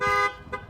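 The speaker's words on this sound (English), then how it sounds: "a little honk in the back." A 2017 Ram 1500 Rebel pickup gives a short, loud horn toot followed by a fainter second chirp, both brief and close, with no talking.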